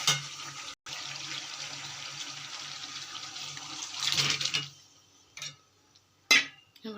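Water poured into a pan of spiced curry with potatoes, a continuous rushing pour for about four seconds that swells briefly, then quiet with a couple of short clatters and splashes.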